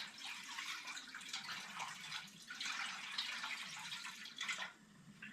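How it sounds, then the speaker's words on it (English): Water poured into a Thai hot pot for cleanup, a steady broadband rush and splash close by, running continuously with a brief louder surge near the end before tapering off. "We'll add some water to it."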